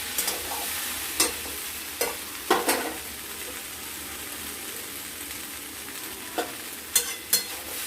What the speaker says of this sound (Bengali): পেঁয়াজগুলো প্রায় ভাজা হয়ে গেছে।